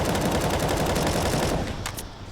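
Rapid gunfire from a Counter-Strike pistol round in a professional IEM Katowice 2023 match is dense and continuous, with the shots blurring together for about two seconds before thinning out. There is no speech over it.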